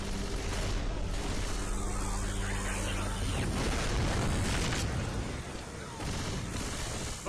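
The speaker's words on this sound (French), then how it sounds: "Grenade!" A grenade blast in Left 4 Dead 2, heard as a loud, sustained boom with heavy low rumble and dense gunfire and game noise, lasting several seconds, with voices shouting over the chaos.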